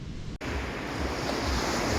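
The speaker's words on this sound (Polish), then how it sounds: "Szum tego morza prześliczny." Sea waves rush steadily onto the shore at night, a loud continuous roar of surf with some wind, unbroken apart from a brief dropout near the start.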